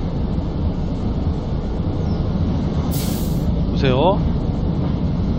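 A train runs along a single-track railway in the factory-building video game Satisfactory, with a steady mechanical rumble throughout and a brief rising whistle or squeal near the end, under someone speaking Korean.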